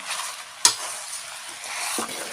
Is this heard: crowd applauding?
no